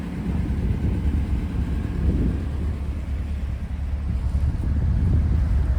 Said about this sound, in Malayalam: ഇതാണ് നമ്മുടെ ബോട്ട്